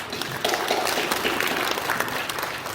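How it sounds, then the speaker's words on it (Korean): Congregation applauding at a church thanksgiving service for a memorial hall launch ceremony, dense continuous clapping from a large crowd, loud and even throughout. "우리 박수 한번 하시죠."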